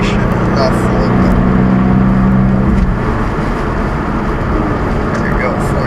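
Subaru BRZ accelerates on a winter road at about 70 km/h, with a loud, steady engine drone and road rumble filling the clip while someone talks over it.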